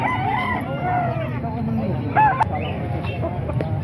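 Roosters crowing and clucking amid chatter at a busy gamefowl market in Calumpit, several birds calling at once, some near and others farther off, over constant crowd noise.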